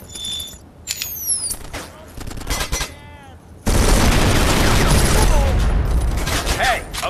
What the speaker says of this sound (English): Machine guns, two targets ahead.